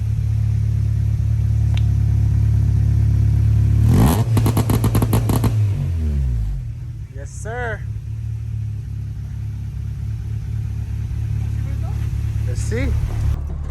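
A car with a new Vibrant exhaust on an H2B build idles with a deep, close drone, then is revved in a short series of rapid pulses before it settles back to a lower rumble while people talk.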